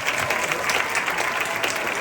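HVAC graduates at a Fortis College graduation ceremony applaud, giving a steady, even clapping from a moderate-sized crowd heard fairly close throughout.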